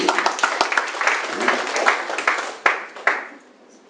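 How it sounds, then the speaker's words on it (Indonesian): Lively audience clapping at an Indonesian campaign-style presentation, sharp claps thinning out into a few last isolated ones before fading to near silence. "Tepuk tangan dong kalau kita benar."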